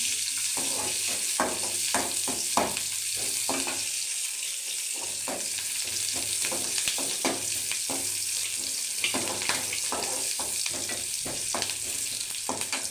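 Onions sizzle and fry in a pan for a homemade cabbage and broad bean poriyal, a continuous soft crackle broken by frequent scraping and stirring clicks, heard close with no talking.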